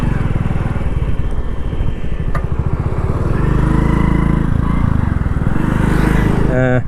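A light motorcycle makes a U-turn, its small engine puttering loudly nearby, rising and falling in pitch as it slows and accelerates, while someone talks over it.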